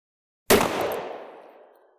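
One loud, close gunshot from a heavy-frame Taurus 66 .38 Special revolver, a sharp bang that tails off into a long, fading echo.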